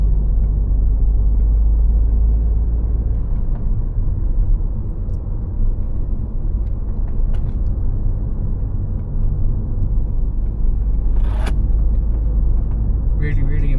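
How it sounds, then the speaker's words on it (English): A big, tall Dacia SUV cruises along a road near Kirriereoch Hill, giving a continuous deep rumble of engine and tyres from inside the cabin, with a voice speaking over it and a few faint brief knocks. "it handles really well for quite a big sort of tall SUV as well"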